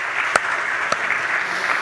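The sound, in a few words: audience applause at a political forum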